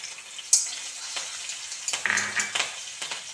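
Ingredients tossed into hot oil in a pan while making restaurant-style chicken fry, a short crackling sizzle with a sharp splash at the start and bursts of spitting and stirring, close up and without talk.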